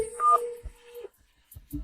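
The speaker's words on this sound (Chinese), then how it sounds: "我掏出手机，直接给村里的榨油坊打了个电话" A mobile phone sounds a steady dialing tone followed by a few short key beeps, with faint noises around it.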